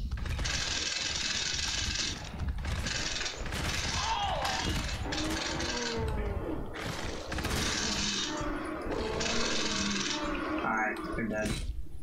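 Repeated heavy hammer strikes in the co-op horror shooter GTFO, landing in bursts of impacts over a dense game soundscape, with players talking throughout.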